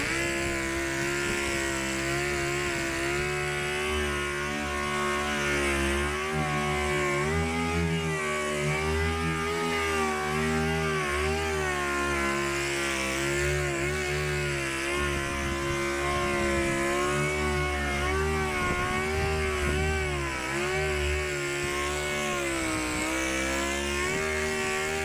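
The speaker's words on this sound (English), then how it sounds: "Let's start sanding." Continuous whirring drone of a machine sanding new car paint with 3000 grit sandpaper, steady and close with slight wavering pitch, no talk over it.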